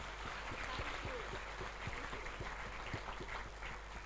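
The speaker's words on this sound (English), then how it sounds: "Please give them a nice round of applause," Audience at a plenary conference session clapping in a steady, dense patter that fills the whole stretch at moderate level, with no voices over it.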